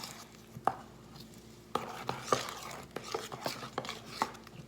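Two cups of milk with sugar being stirred in a bowl for a simple dessert, a quiet scraping swirl broken by several sharp spoon clinks against the bowl's side, close and with no speech.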